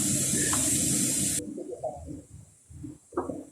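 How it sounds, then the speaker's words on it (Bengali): Oil frying pointed gourds (potol) in a pan sizzles loudly for a moment, then cuts away, leaving soft scrapes and clinks as the pieces are turned. "এরপর আমি উল্টিয়ে দেব পটলগুলো।"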